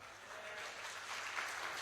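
Church congregation applauding, a soft, steady patter of many hands clapping together that swells slightly toward the end, heard from some distance.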